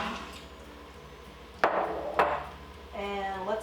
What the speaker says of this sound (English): So let's add our beans